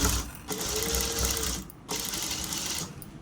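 Sewing machine stitching piping around a neckline, running in steady whirring bursts with short pauses between runs, close and moderately loud.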